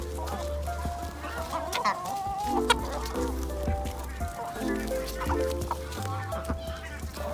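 Hens and a rooster on a chicken farm cluck and call continuously at close range, with overlapping squawks and a few louder honking cries throughout, while they are being fed corn by hand.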